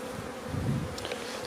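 Black honeybees hum at a hive in a short, steady drone, with a few louder individual buzzes passing near.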